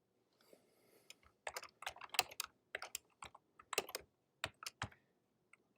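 Typing on a computer keyboard, quiet and close, in short irregular bursts of crisp key clicks with brief pauses between, no voices.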